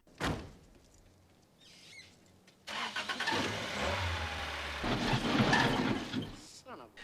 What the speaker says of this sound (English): if he ever gets his crappy car running